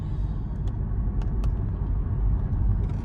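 A car engine rumbles low and steady as its clutch slips, a close, continuous drone heard from inside the car with a few faint clicks above it.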